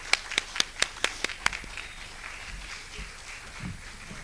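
Clapping at an academic colloquium as the keynote speaker is welcomed on stage: about seven crisp, evenly spaced claps in quick rhythm, then the clapping stops and the room falls to a quiet murmur.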